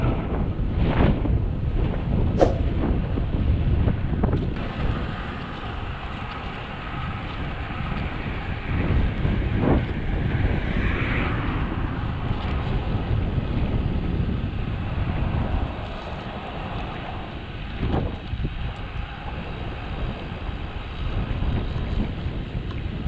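Strong headwind roars and buffets the microphone continuously while riding on a road, a heavy rushing noise with gusty thumps, no talking.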